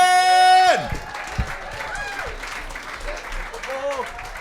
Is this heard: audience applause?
yes